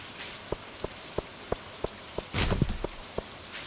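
Rain in the farming game Stardew Valley, a steady soft hiss of falling rain with regular drip-like ticks about every third of a second and a brief louder splash in the middle, no voices.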